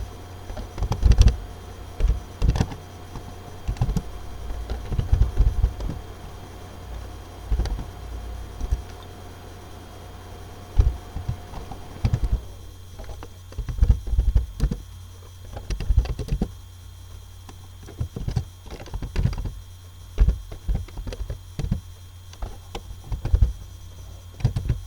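Typing on a computer keyboard while entering a college payroll table into an Excel spreadsheet: steady, close clicking keystrokes in irregular bursts for the whole stretch, with no voices.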